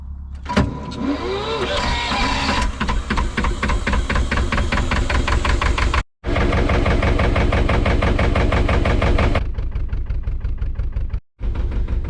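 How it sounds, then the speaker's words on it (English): A narrowboat's engine cranks and catches, then settles into a steady, throbbing idle with a regular mechanical knock, close and loud, with two brief dropouts near the end. "So engines all started up, ready to go."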